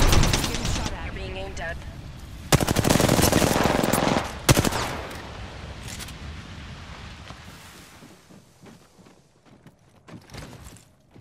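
Dense bursts of automatic gunfire roll out in a shooter video game, loud and sustained at first before fading into sparser shots and game sounds. A voice talks over the action.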